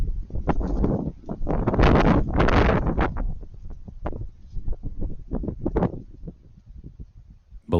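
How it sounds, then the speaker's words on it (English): Strong gusting wind buffeting a ranch trail camera's microphone, producing loud, rumbling low roars and irregular thumping bursts that rise and fall over the whole stretch, with no talk. "So that wind was definitely a whipping."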